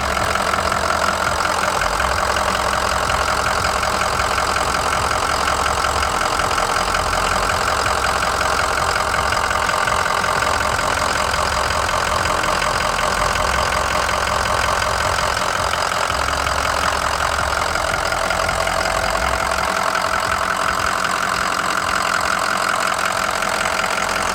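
Close up under the hood, the Power Stroke diesel in a Ford Excursion Limited idles with a steady, rough clatter and a continuous low rumble, with no voices.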